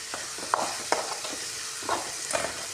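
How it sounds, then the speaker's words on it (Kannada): Spices and dry chilli crackle and sizzle in hot oil for tempering, with sharp pops scattered over a steady frying hiss; no voices. "ಅದಕ್ಕೆ ಒಣ ಖಾರ ಹಾಕಿ ಒಗ್ಗರಣೆನ ಮಾಡಿರ್ತೀನಿ ನಾನು"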